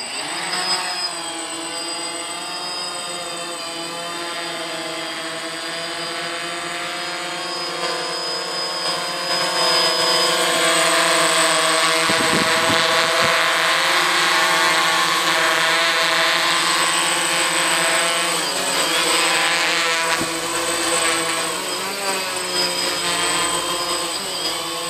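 DJI Phantom drone taking off at night: a steady high rotor whine that grows louder and shifts pitch as it lifts off, heard close and alone.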